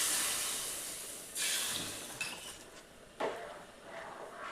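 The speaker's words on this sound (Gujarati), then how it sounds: "દાળમાં વઘાર કર્યો." Dal being tempered in a pot on a home stove: a steady hiss and sizzle runs throughout, broken by a few sharp metallic clinks of a utensil against the pot.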